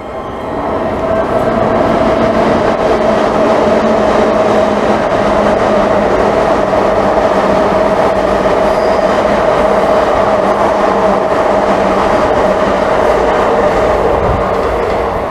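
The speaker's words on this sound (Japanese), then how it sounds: "E233 系来ました。" An E233 series electric local train, ten cars, pulls into platform 1 at Musashi-Koganei station on the Chuo Line, loud and close, a continuous rumble with a steady motor whine and faint rail clatter, no voices.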